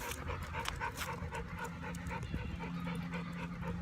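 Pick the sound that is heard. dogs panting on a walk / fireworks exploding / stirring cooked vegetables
dogs panting on a walk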